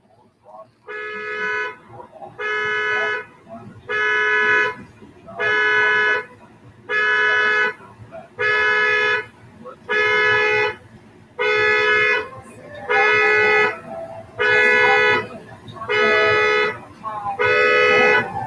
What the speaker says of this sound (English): You hear my neighbor's car alarm?